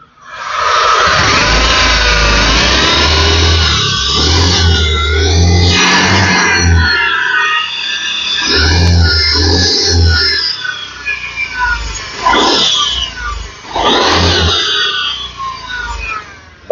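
A loud, close Honda Vision 110 scooter engine with an abnormal high whining fault, revving up and down, the prominent whine riding over it in several surges and drops.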